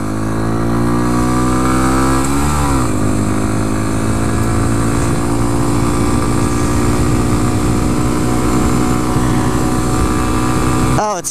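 A 2014 Honda Grom, a small naked motorcycle, is ridden with its engine droning loud and close throughout, pitch dipping briefly after a shift around the second mark and then holding steady; a faint voice may sit underneath.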